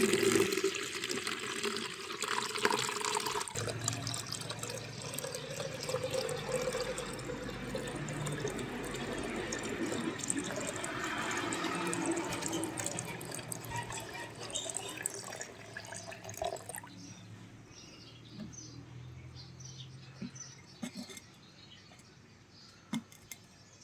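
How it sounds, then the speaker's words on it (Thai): Water is poured slowly off settled gold sediment during gold extraction, giving a steady trickling splash that runs for most of the time, then fades to faint scattered drips. "เราจะค่อยๆเทน้ำออกก่อนนะครับเพื่อนๆนะระวังฝุ่นทองหลุดไปด้วยนะครับ"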